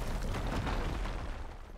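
A loud, rumbling explosion in Horizon Forbidden West with a deep roar and crackling debris that sustains steadily before tapering off slightly at the end.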